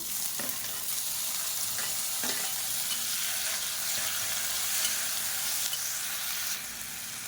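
Tomatoes fry and soften in oil in a pan for a quick tomato chutney, a constant close sizzle with a few soft stirring scrapes over it and no voices.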